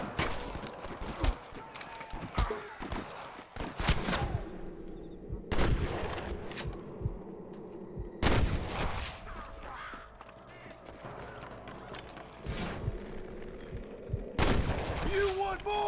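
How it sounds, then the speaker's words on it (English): Repeated gunfire bursts from the video game Red Dead Redemption, with loud sharp shots and volleys spread over the stretch, some near and some further off, alongside background action sounds and occasional voices. "Damn fine shooting, boys."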